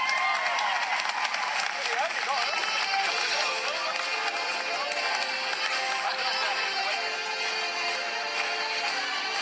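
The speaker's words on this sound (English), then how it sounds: "Big round of applause for Eleanor." A late-night television studio audience applauds a fan called up from the crowd, steady dense clapping mixed with some cheering, continuous and fairly close.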